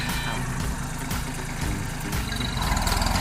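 A Kubota B24 tractor fitted with a modified scoop bucket runs steadily nearby, giving a loud, continuous chugging engine drone with rough low rumble and some clatter.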